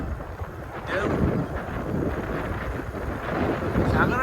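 Strong wind buffeting the microphone at a seaside harbour in Italy with boats nearby, a steady loud rumbling gust throughout, close and continuous.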